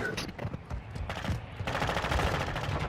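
Bursts of rapid gunfire in a video game firefight against bots, dense and loud with short volleys and sustained automatic fire, a voice heard faintly in between.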